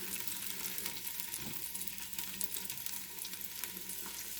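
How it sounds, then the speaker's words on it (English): Chopped onions frying in a pot as the base for lentil soup, a steady soft sizzle and crackle with faint stirring, heard alone at a low, even level. "we cook the onions. Oh, I love the sound."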